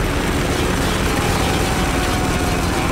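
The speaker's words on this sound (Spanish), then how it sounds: "Venga ahí, otro helicóptero." Helicopter in the video game Spec Ops, a steady, loud rotor and engine roar filling the whole clip with a dense, unbroken wash of noise and no talking.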